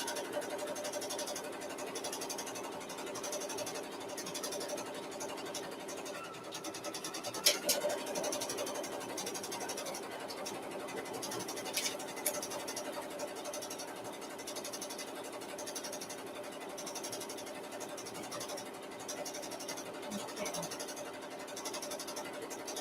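A sewing machine runs steadily, a continuous mechanical whir that holds at an even level throughout with a few brief clicks and knocks, close and alone.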